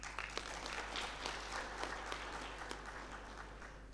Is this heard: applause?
yes